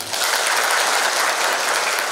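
Steady, loud audience applause fills the short stretch without pause at a live MC training session.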